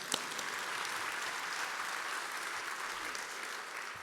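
Steady, dense audience applause at a pro bono and public service awards luncheon, a continuous wash of clapping from a seated crowd that holds level for the whole stretch.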